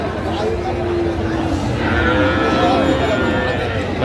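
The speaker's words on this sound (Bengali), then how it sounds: "এখানে যে গরুগুলো দেখছেন মমিন ভাই" Sahiwal cattle moo in long, low drawn-out calls over a noisy outdoor farm background, one bellow following another.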